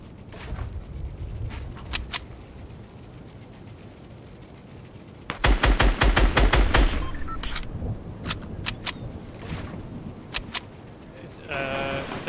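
Rapid burst of gunfire from a Fortnite arena match, a tight cluster of sharp shots in the middle with scattered single shots before and after, heard under faint game ambience.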